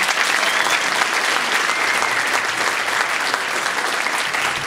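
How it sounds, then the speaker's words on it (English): Audience at a chamber of commerce luncheon claps steadily, a dense, loud wash of many hands sustained throughout without pause. "Can you give him a big round of applause for doing a great job?"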